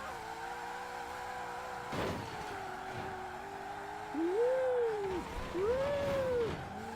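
A 1900-horsepower drag Mustang in the Forza Horizon racing game drives at speed, its steady engine drone swelling into two loud revving pulls near the end, with no talk over it.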